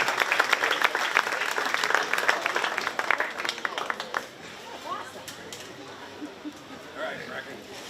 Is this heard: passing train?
no